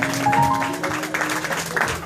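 A small audience at a Soul Sunday gathering at The Iron Post in Urbana, Illinois, gives a thin, scattered round of clapping from only a few hands, with sustained musical tones held underneath.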